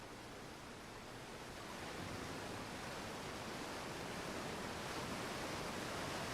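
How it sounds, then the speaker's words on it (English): Waterfall in the video game Outer Wilds, a steady dense rushing roar of falling water that grows slightly louder after the first couple of seconds and then holds, with no talking. "this waterfall was also not here in the demo"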